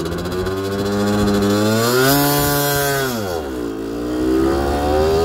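A 50cc moped engine accelerating through a hill start, a loud, close buzzing drone whose pitch climbs, dips briefly, then rises again as it revs, with no voices.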